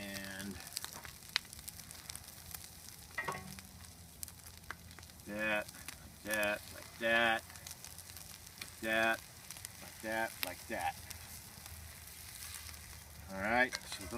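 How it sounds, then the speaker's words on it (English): Soft taco shells sizzling in a little oil on a Weber grill, a steady quiet frying hiss under intermittent bursts of nearby talk. "So let's throw those on the grill. We're gonna put a little oil on right there."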